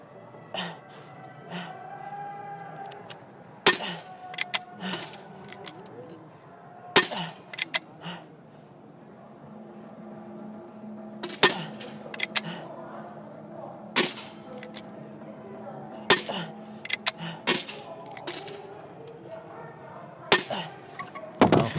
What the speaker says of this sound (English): Batinkova Baumann gets into the shooting position